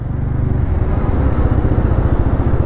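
A 2024 TVS Apache RTR 160 4V motorcycle rides through real city traffic on a university road, its engine giving a loud, steady, close-up drone throughout.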